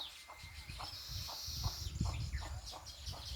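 Weaver birds chatter at a nesting colony in a peepal tree near a cow shed, a dense, continuous mass of chirps and calls over low farmyard rumble.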